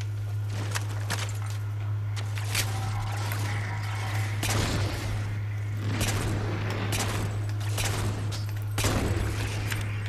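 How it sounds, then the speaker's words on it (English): Shotgun fire in Halo 4: a series of sharp blasts spaced a second or two apart over a steady low electrical hum and background game noise. "Now, I'll switch this for the shotgun."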